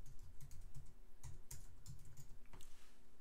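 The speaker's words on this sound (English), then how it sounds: "I'm typing in gethealthypodcast.com." Fingers type quickly on a computer keyboard, a soft steady run of clicks and taps with a few louder keystrokes, heard alone and fairly quiet.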